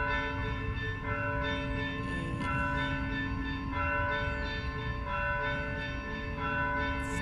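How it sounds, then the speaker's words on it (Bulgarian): Church bells ring at eight in the morning near a church, steady sustained tolling with layered ringing tones that carry on without a break, moderately loud and with no talking over them. "знаете, че звукът на камбаните е лечебен"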